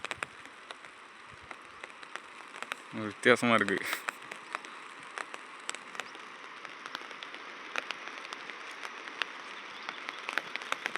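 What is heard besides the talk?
rain falling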